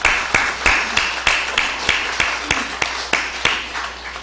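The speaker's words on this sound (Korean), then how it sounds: "박수하겠습니다." Members of a church congregation clap during a Sunday worship service, a steady series of sharp, evenly spaced claps ringing out close and loud in a reverberant sanctuary.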